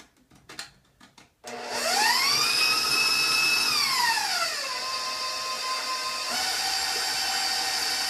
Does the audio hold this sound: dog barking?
no